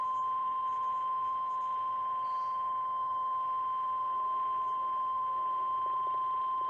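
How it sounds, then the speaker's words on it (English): A steady electronic tone beeps continuously at an even pitch, loud and unbroken against a faint background hiss. "The beeping is kind of annoying, but I take it."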